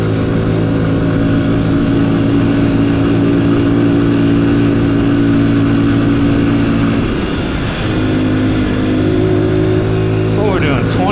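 A Sherco TY125 dirt bike heading downhill over wet, slick roots, its engine droning steadily and close with small throttle changes and a brief dip near the end.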